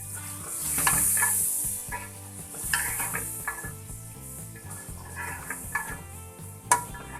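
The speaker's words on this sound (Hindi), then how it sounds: "अब ये थोड़ा सा और भुनेगा दही के बाद" Yogurt sizzles and fries with onions and tomatoes in a pot for a palak gosht with chicken, with steady crackling and repeated stirring scrapes and clinks of a utensil against the metal.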